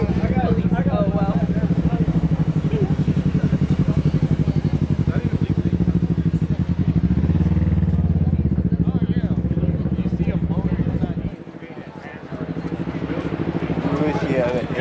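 A large car engine idles and rumbles steadily at an outdoor Cars & Coffee car show, loud and close with a brief dip near the end, while people talk nearby.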